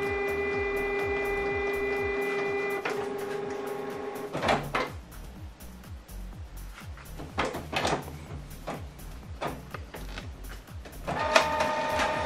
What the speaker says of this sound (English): this document now is going to print